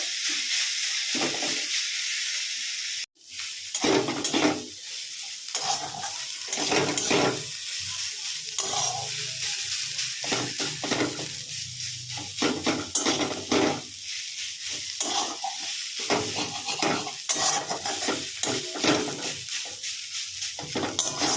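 Leafy greens and shrimp being stirred and fried in a pan give a loud, steady sizzle and hiss. Repeated scraping stirs run throughout, with one brief drop near the start, and no one talks.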